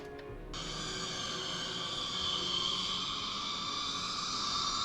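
Processed baby kitten cries reworked into an eerie Alan Wake creature effect: a dense, sustained high-pitched screeching texture that bursts in abruptly after a brief quiet start and holds steady and loud to the end.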